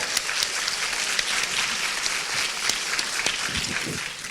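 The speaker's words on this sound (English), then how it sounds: "Give her a round of applause for that" Audience applause during a podcast interview, a steady dense clapping from a crowd that holds for about four seconds before tapering slightly at the end.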